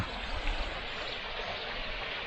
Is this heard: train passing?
no